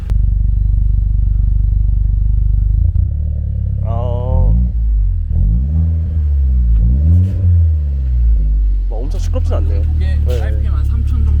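A car engine rumbles at idle, then revs up and down several times through a non-valved exhaust with only an aftermarket end muffler, on an old manual coupe, loud and close, with some voices underneath.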